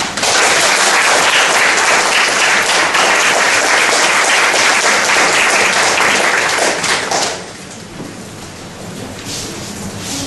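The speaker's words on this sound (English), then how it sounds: "let's welcome our speaker with a big round of applause" A dense, loud round of applause from a conference audience welcoming a speaker to a talk on Romania's 1989 revolution, sustained for about seven seconds before dropping to a softer patter.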